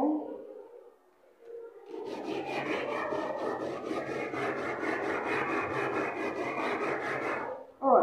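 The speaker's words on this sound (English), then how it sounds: "This is sandpaper. Oh, it's a very rough one." A graphite piece is rubbed back and forth on very rough sandpaper to grind it into powder, a close rhythmic rasping scrape that runs for several seconds. A voice is briefly heard at the start and again at the end.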